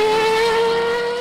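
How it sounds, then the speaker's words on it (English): A high-pitched Formula One V10 engine screams at a steady, sustained pitch, loud and close, tapering slightly at the end. "create this incredible V10 engine sound"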